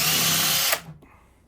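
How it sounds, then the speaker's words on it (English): A power drill with a 7/16 bit bores out a broken coolant reservoir nipple on a Honda Foreman ATV, whining loud and steady for under a second before cutting off and spinning down. "So I'm gonna go ahead and drill this out."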